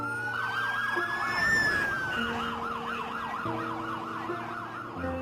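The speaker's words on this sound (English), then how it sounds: "You'd have to hear like 100 sirens go off at once." Dozens of emergency vehicle sirens wail at once across New York streets, overlapping rising and falling tones with steady horn-like blasts, loud and layered with traffic rumble beneath.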